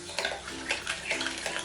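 A spoon mixes sugar and cream in a bowl in a few quick scraping, clinking strokes, close and fairly quiet, with no talking.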